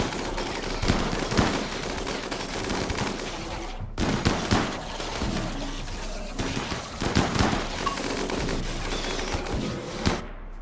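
Centipede gunner firing in the RimWorld colony game, bursts of rapid gunfire in clustered volleys with brief gaps between them, loud and close over a busy battle din.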